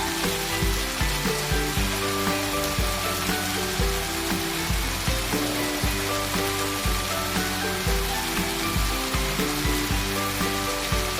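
Oil sizzling and frying steadily as hilsa fish head cooks with malabar spinach, a dense continuous crackle with rhythmic stirring or music-like tonal pulses running through it, fairly loud and close with no talking.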